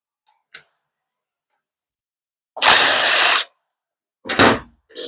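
A power tool, likely an impact driver, runs in two short bursts on a bolt on a 45RFE/545RFE transmission, loud and close, with a brief click before and quiet between bursts.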